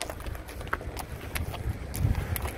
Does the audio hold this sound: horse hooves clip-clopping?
yes